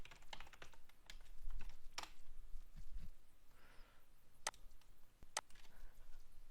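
Scattered computer keyboard keystrokes, irregular and fairly faint, with isolated sharper clicks spaced apart in a quiet room during a Skype for Business 2019 server setup.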